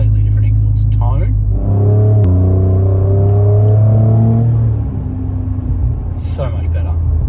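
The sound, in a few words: Ford Raptor V6 twin-turbo open exhaust in Baja mode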